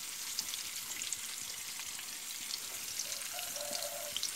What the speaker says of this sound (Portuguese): eu vou botar um dentinho de alho